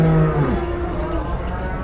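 Cattle at the Melapalayam livestock market in Tamil Nadu: one loud, close moo at the start gives way to a steady murmur of the market crowd and animals.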